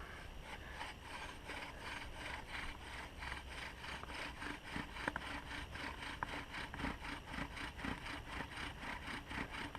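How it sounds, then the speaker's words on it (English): A continuous rhythmic friction sound, like a bow drill spinning back and forth against wood, grinding steadily and faintly at close range. "start to drill that into the wood"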